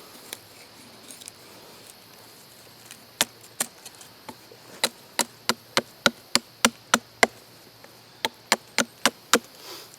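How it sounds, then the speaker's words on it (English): An Old Hickory butcher knife chops into wood while shaping a spoon, giving sharp, crisp strikes that start sparse and then settle into a fast, steady rhythm of close, loud taps. "Doing some shaping chops."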